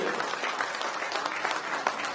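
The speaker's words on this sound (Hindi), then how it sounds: "तालियां बढ़िया" Steady audience applause at a Hindi poetry recital (kavi sammelan) in Gwalior, a dense crowd of clapping hands at moderate distance, unbroken for the whole stretch.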